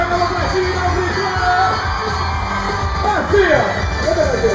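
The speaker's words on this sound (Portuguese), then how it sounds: "joga a mão pra cima e dá um grito" A concert crowd at a radio station's anniversary show yells, whoops and shouts together, a dense, continuous roar of voices with louder cheering bursts near the end.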